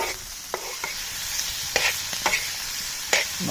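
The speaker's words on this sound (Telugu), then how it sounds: "లివర్ కూడా మంచి ఫ్రై అయిపోయింది" Chicken liver frying street-style on an iron pan, a steady close sizzle with scattered sharp stirring scrapes and clacks, no voices.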